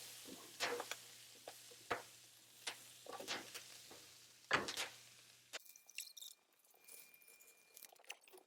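Garlic sizzles softly in a pan with scattered scraping stirs and light taps, moderately close, with a quieter stretch near the end.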